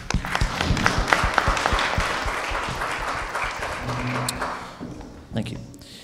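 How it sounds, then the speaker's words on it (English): A satsang audience gives a big round of applause, dense clapping with a few sharp individual claps early on, then thinning out as murmured voices and a brief hum come through toward the end. "Let's give another big round of applause"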